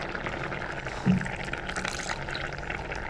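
Thick first-pressed coconut milk poured into a simmering Kerala crab curry, a continuous gentle liquid stream over the bubbling pot, moderately near and steady with a brief louder splash; no talk.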